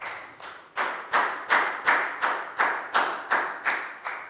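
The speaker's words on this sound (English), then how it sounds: "Big round of applause for Lakgau." Schoolchildren in a Year 4 classroom clap in unison, about a dozen sharp, evenly spaced rhythmic claps, close and fairly loud, with no talking over them.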